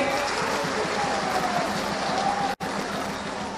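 Audience at a bridge foundation-stone ceremony in Jamtara, Jharkhand, applauding steadily and densely throughout, a continuous crowd clapping wash with a brief dropout near the end.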